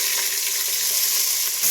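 Onions frying in a pan for egg biryani after whole spices, a steady, close, bright sizzle that holds evenly throughout with no voices.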